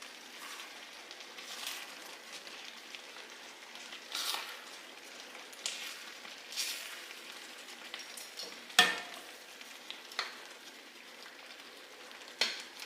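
Apple pie filling cooks in a pan on the stove, giving a soft, steady sizzle and bubbling, with faint stirring clicks and a few sharper scrapes or taps, no one talking.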